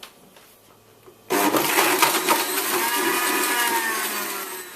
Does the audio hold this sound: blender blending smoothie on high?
yes